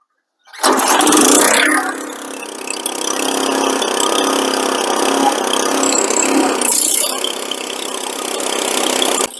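A small gasoline engine starts with a loud burst, then settles into a steady, rattling run, close and loud, briefly surging again near the end.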